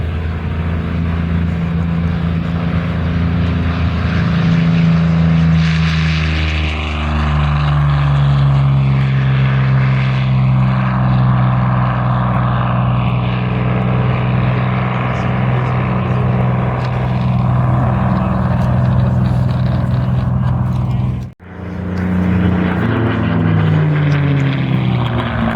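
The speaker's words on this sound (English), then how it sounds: "the P-40 Warhawk." A P-40 Warhawk propeller fighter passes at a World War II airshow, its loud engine drone sweeping in pitch as it flies by, then a brief dropout before the engine noise returns.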